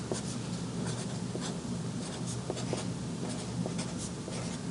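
Marker or chalk scratching on a classroom board as words are written out, a run of short squeaky strokes and taps over a steady background hum, with no talking.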